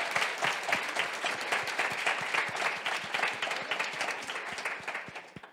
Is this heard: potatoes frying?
no